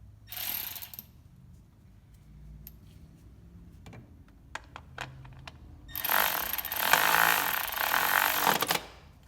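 Ratchet clicking as a bolt is started on a 2017-2022 Honda CR-V during spark plug replacement, short bursts of pawl clicks up close, then a louder, denser burst of rapid ratcheting near the end.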